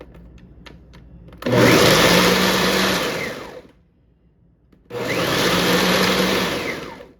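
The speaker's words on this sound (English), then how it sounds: "I just finished grinding the raisins there." Raisins grinding in a blender for a Barbados Christmas fruit cake: two loud, sustained whirring bursts of about two and three seconds, separated by a short pause, with faint clinks beforehand.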